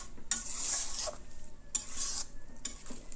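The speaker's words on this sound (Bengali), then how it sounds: "আমি কিছুক্ষণ এটাকে নাড়াচাড়া করে ঢেকে রেখে দেবো" Mutton cooked with ash gourd is stirred in a hot pan in three scraping sweeps of the spatula, each over a bright frying sizzle.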